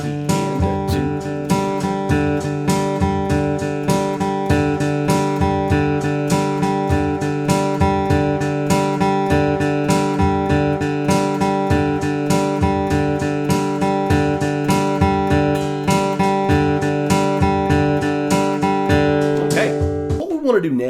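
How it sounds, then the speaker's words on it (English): Flatpicked acoustic guitar exercise played over a steady train beat, continuous even picking at a brisk tempo, loud and close throughout. "then we'll practice it along with the train beat to develop our timing,"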